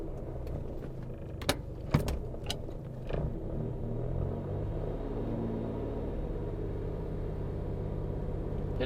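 A 1995 Daihatsu Charade, unregistered and parked at a rural property, runs with a steady low engine rumble as it moves off, a few sharp clicks and knocks near the start and a faint whine above the drone.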